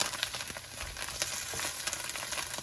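Polenta slices fry in a hot pan, giving a steady close sizzle with fine crackling pops throughout and no talking.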